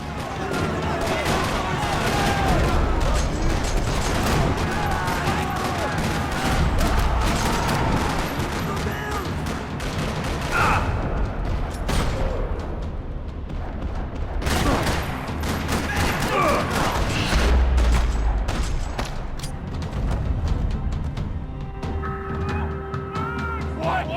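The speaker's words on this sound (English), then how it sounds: "Another parking lot rattling with gunfire." Rattling gunfire fills a parking lot during Max Payne 3 gameplay: dense, overlapping bursts of shots and heavy booms, loud and continuous, with a few sharper impacts and voices faintly mixed in.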